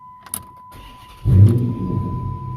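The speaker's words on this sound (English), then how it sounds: "Start it, cranks right up, and the light goes out." A Dodge Chrysler car engine cranks briefly and catches after a key turn in the ignition, settling into a steady close idle, with a faint electronic tone running throughout.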